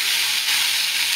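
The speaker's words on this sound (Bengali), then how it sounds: "আলু আর শিমটাকে আমি পেঁয়াজের সাথে কিছুক্ষণ ধরে ভেজে নেব" Potatoes and beans frying with onion in a pan, a loud, close, continuous sizzle with a dense hiss and no talk.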